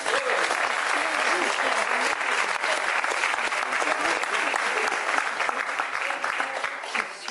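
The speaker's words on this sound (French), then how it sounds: "On peut les applaudir aussi." Sustained applause from an audience at a Breton gavotte Bas-Léon dance contest in Plouédern, dense steady clapping throughout at an even level, with a few voices faintly mixed in.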